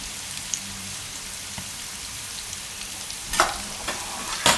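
Carrots and tomatoes cook with turmeric, coriander-cumin powder and red chili being mixed in, giving a steady soft sizzle with a few louder stirring scrapes near the end.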